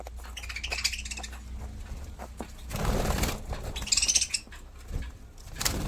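Budgerigar chick in a cage, with soft chirps and a short burst of wing flapping, heard close and fairly quiet.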